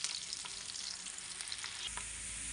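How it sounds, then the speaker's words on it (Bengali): Ginger and garlic frying in a pan for chicken soup, a steady, dense sizzle with occasional stirring scrapes, continuous and fairly faint, with no voices. "এটাকে ভালো করে আগে ভেজে নেব। ব্রাউন কালার হয়ে যাবে ততক্ষণ ভাজবো।"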